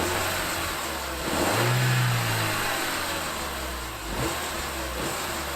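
Vauxhall Corsa D 1.4 Black Edition engine on its stock air intake, idling then revving up with a rising mid-pitched drone before settling back, followed by a second short blip, close and steady.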